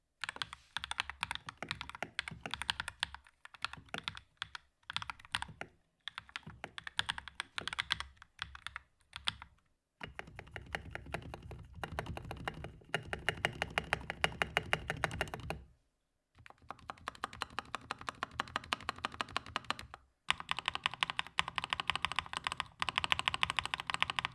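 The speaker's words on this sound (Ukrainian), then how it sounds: "Звучить ця клавіатура ось так." Epomaker mechanical keyboard typing in fast, clacky bursts, crisp and close, with short pauses between runs of keystrokes and no talking.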